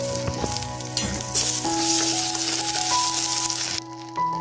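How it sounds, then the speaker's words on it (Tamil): Curry leaves and ginger-garlic paste crackle and sizzle in hot oil for Pallipalayam chicken varuval, a loud close spattering that surges midway, with faint scraping clinks at the start and a brief drop near the end. "மீதி கொஞ்சம் கருவேப்பிலை வச்சுருக்கேன், அதை இப்போ ஆட் பண்ணிக்கிறேன்."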